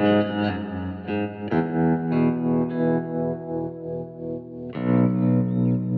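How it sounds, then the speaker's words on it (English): A sustained electric guitar chord wavers with a pulsing tremolo, washed in drippy spring reverb, then a fresh strum rings out near the end. "Tremolo sounds awesome on that, and some nice drippy spring reverb."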